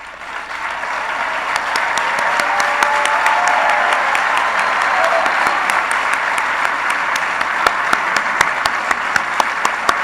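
Conference audience gives sustained applause for seed capital grant recipients at a fellows' closing celebration, a broad steady wash of clapping from a large crowd lasting throughout, with scattered crisp claps near the end.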